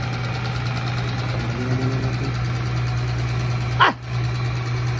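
A small motor runs steadily at idle, a continuous low hum with a faint mechanical knock, ending in a brief sharp sweep near the end.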